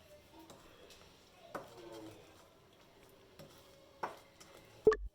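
A spatula mixing cookie batter with vanilla essence in a bowl, soft scraping with a few sharp knocks against the bowl, quiet and close, and a louder clack at the end.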